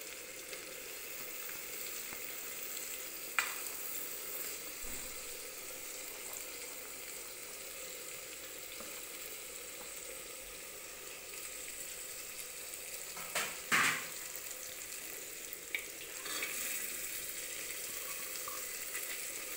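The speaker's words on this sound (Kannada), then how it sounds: "ಇದನ್ನು 1-2 ನಿಮಿಷ ಬಾಡಿಸ್ಕೋತೀನಿ." Chopped carrots, beans, potatoes and peas sautéing in a pan, a soft, even sizzle with a few faint stirring scrapes and clicks, quiet and steady, no voices.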